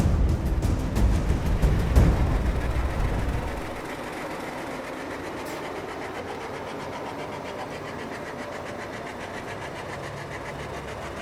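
An old steam locomotive heads slowly toward Piraeus harbour with a rumbling, chugging mechanical drone that is louder at first, then settles into a steadier, quieter rolling rhythm.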